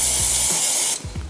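An aerosol spray can hisses in a long, steady burst during an oil change on a Ford Mustang, then cuts off abruptly, followed by a few soft clicks and knocks.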